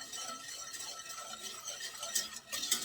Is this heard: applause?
no